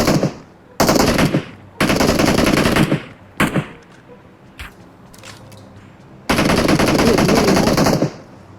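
Loud automatic gunfire from the video game PUBG Mobile comes in several long bursts separated by short pauses and a few isolated shots, close and dominant.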